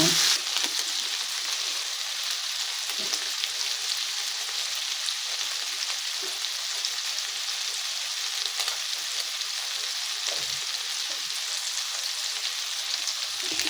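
Beef and fish sauce mixed in a frying pan for ampalaya con carne produce a loud, continuous hissing sizzle close up, with faint stirring scrapes now and then and no pauses.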